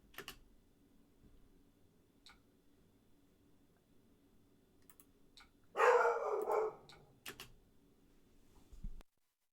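A dog barks indoors in a home, a short burst of a few sharp barks rising out of near-silence, with faint clicking like keyboard taps before and after.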